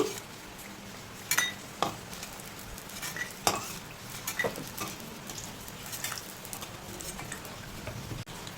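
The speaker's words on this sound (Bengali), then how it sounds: "বড়িগুলোকে লালচে করে ভেজে নিয়েছি এবার তুলে রাখছি" Lentil bori dumplings fried until reddish in hot oil and lifted out: a steady background sizzle with a few distinct clinks and scrapes of a utensil against the pan, fairly faint throughout.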